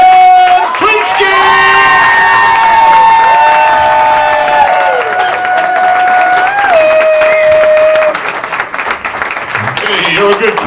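A comedy club crowd cheers, whoops and applauds loudly for several seconds, with a sustained high whistle-like tone running through the noise and the applause thinning toward the end.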